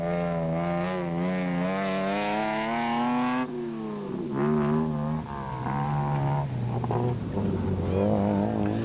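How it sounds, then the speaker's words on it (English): A Toyota Land Cruiser rally engine racing in the 1995 Roof of Africa off-road rally revs hard and loud, holding a high steady note before dropping and climbing again through repeated gear changes, with no talk. "with the Toyota's motors sounding as crisp as ever"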